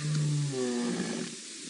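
A male lion roars at close range in the African bush on a safari drive, one deep, strong roar followed by a fading, rumbling grunt.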